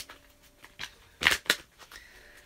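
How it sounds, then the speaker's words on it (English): Tarot cards being shuffled by hand, a few soft riffling bursts with two sharper snaps near the middle, close and fairly quiet with no talk. "I'm just shuffling right now"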